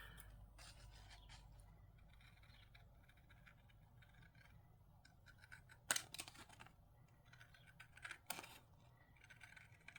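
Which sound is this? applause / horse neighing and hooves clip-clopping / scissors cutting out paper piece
scissors cutting out paper piece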